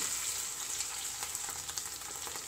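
Boiled potatoes frying in ghee in a pan for sabudana khichdi, giving a steady close sizzle with a few louder crackles and no talk.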